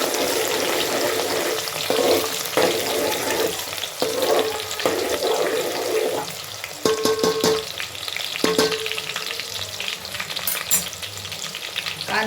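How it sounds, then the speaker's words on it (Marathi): Chopped onion hitting hot oil in a pan for mutton paya soup, a loud, steady close sizzle and crackle throughout, with brief clatters of stirring and a short run of tap water near the end. "तेल थोडं तापून दिलं आणि मग त्याच्यामध्ये कांदा टाकला."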